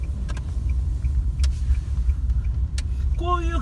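Car driving during a driving-test course run, low steady road and engine rumble heard from inside the cabin, with a few small clicks and a voice starting near the end.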